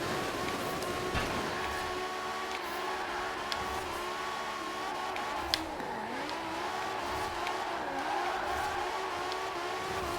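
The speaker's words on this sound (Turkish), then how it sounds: "Motoru da güzel. Baksana şuna. Bağırıyor araba." A BMW M5 E60 engine roars steadily in the racing game Forza Horizon 4, a loud continuous engine drone with sustained revving throughout and no talking.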